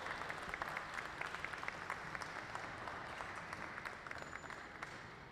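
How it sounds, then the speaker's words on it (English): Steady applause from a studio audience honoring glassblowing artists at a museum hot shop, a dense, even patter of clapping hands lasting throughout, fairly distant and without speech. "And let's give them a round of applause for all their hard work."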